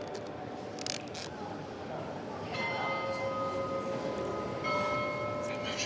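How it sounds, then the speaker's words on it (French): Carillon bells ring out at Notre-Dame de Paris cathedral, sustained bright tones entering partway through and layering over a steady crowd murmur and room noise, growing fuller toward the end. "Le carillon va-t-il sonner?"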